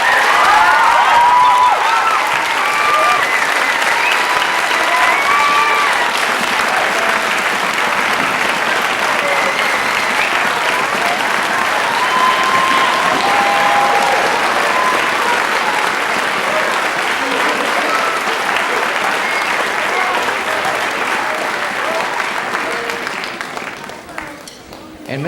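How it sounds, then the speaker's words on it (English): Audience at a high school and middle school band concert applauding, a long, dense, even burst of clapping that holds steady and then tapers off at the end. "So I think Miss Sisk deserves another round of applause."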